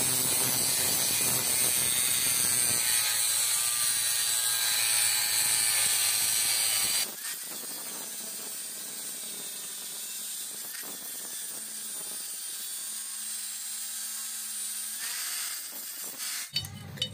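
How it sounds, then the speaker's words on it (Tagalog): An angle grinder cuts through a seized lug nut on a Hyundai Accent wheel stud, giving a harsh, continuous high-pitched grinding that shifts to a lower, rougher cutting noise midway and runs unbroken without talking. "So, gagrinderin lang."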